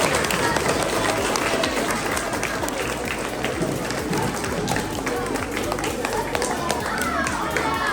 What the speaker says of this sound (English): Let's give a round of applause for our fifth grade teachers